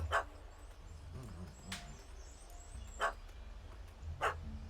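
A dog barks in The Witcher 3: Wild Hunt – Hearts of Stone, giving three short, sharp barks spaced a second or more apart, moderately loud over low game ambience and soft background noise.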